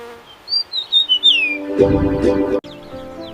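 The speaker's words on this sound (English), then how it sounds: "Listen to the birds. They sing sweet songs in the trees every morning." Birds singing in garden trees, a run of quick high chirps and tweets near the start, followed by a louder harsher call mixed with a tonal sound, all fairly close.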